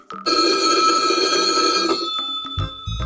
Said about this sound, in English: T for telephone.